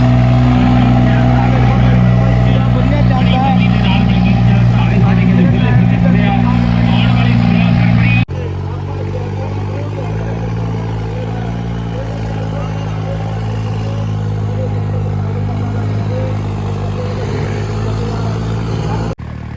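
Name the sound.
Ford 3630 tractor engine pulling a trolley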